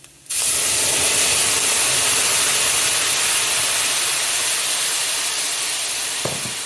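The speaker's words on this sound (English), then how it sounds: "It's gonna sizzle a lot." Brandy hits a hot pan of wild mushrooms and lightly cooked herbs, bursting into a loud, steady sizzle that starts abruptly and holds strong throughout, with no talking.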